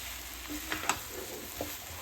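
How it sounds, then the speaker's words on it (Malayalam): Cauliflower, green peas and potato curry stirred in a pan, with a few soft scraping clinks of the spoon over a low steady sizzle, close and fairly quiet, no talking. "ഇനി നന്നായിട്ട് മിക്സ് ആക്കുക"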